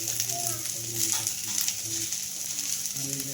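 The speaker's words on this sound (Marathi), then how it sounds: "आता हे कांदा टोमॅटो परतून घ्यायचा आहे" Onion and tomato sauté in a pan for homemade misal, a steady soft sizzle with faint stirring running through the whole moment, with no voices over it.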